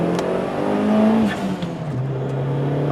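Toyota Starlet Glanza V turbo engine pulling in first gear as boost builds, a close, loud rising rev that steps up and then settles into a steady higher drone.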